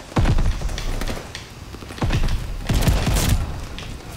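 Shotgun blasts in a video game ring out in quick succession: a single close, punchy shot, then a tight cluster of repeated booms with mechanical clatter between them, and no voices.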